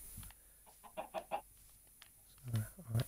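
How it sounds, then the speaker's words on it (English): Chickens in a Minecraft-style block game give a few soft, short clucks in quick bursts, fairly faint against a quiet background. "Let's admit, Dan did do a nice job with the chickens"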